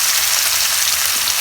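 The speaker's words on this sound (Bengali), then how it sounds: "মাছগুলো বাইজা নিব এখন মাছগুলো দিয়ে দিলাম" Fish sizzling in hot oil in a pan, a steady dense crackle with no pauses, loud and close, no voices.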